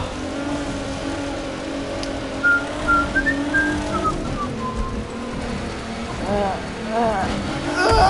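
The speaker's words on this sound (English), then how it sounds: "It's the fucking turbos and shit in the car, isn't it?" A PS4 racing game with a Japanese rally car, its turbo whistling in rising and falling tones over a steady engine drone, with someone talking throughout.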